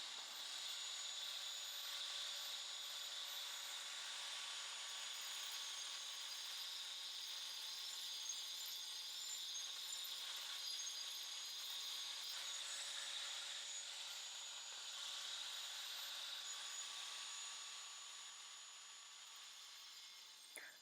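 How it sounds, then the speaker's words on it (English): An angle grinder cutting marble in a dusty workroom of an Italian studio: a steady, high, whining drone holding at even loudness with a constant grinding hiss, easing off slightly near the end. "here I am in the dust room with an angle grinder cutting a marble"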